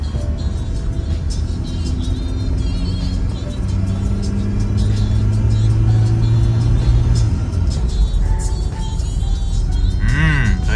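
Toyota Revo wagon with a turbo engine accelerating under sustained load, a loud close engine drone rising steadily in pitch across the run, with road rumble and cabin noise around it.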